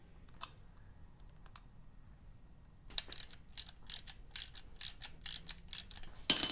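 Ratchet clicking as a bolt is tightened on the ignition coil bracket of a Harley-Davidson engine during a top end rebuild, with threadlocker applied: a close, quick series of sharp clicks that starts after a few quiet seconds.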